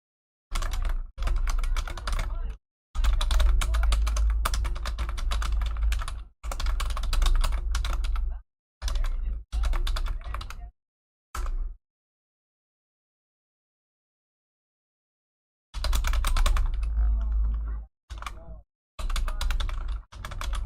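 Computer keyboard typing in bursts of rapid, close clicking with pauses in between, including one long silent gap, and no talking.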